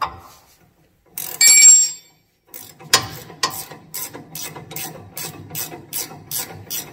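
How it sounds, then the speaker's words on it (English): A ratchet wrench spins a sway bar nut off a Dodge Ram 1500, first a brief buzzy burst, then a steady run of crisp, evenly spaced clicks, close and clear. "You can just take the nut off."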